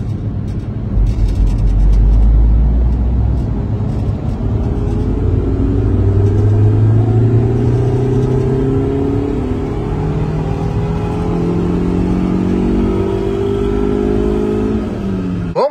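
A tuned BMW E36 engine runs up on a dyno in a full power pull, its loud droning tone climbing steadily in pitch for about fifteen seconds before cutting off abruptly at the end.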